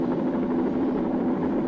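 A helicopter in flight, a steady close rotor drone with a throbbing low hum, heard alone and unchanging for a short stretch.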